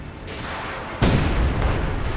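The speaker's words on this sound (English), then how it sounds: "Another barrage here, in fact a very thick barrage going in from the SU-76s." A thick artillery barrage from SU-76 self-propelled guns in the real-time strategy game Company of Heroes 2: a loud sudden boom followed by rumbling, overlapping blasts and crackling battle noise, with no speech.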